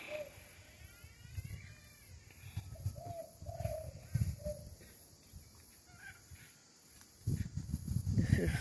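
A flock of cockatoos calls in a suburban setting in Daisy Hill, Queensland. Scattered squawks and short calls sound at a moderate distance over a rumbling outdoor background.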